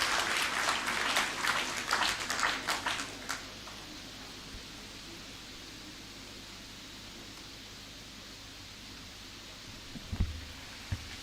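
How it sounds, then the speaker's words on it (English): Audience applause at a university graduation congregation ceremony, a dense burst of many hands clapping for about three seconds before cutting off into quiet room tone with a faint thump near the end. "Now your clap is slipping."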